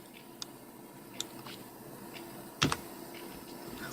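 Fast, light clicks of a computer keyboard as HTML code is typed, a sparse run of soft keystrokes close by, with one louder cluster of taps near the end.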